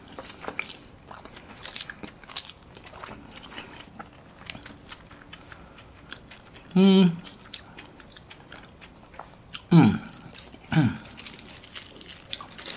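Someone bites and chews kuih kuba guling, a festive Malay cake, with soft crunchy mouth sounds scattered through the stretch, close to the mic, plus a few brief voiced sounds.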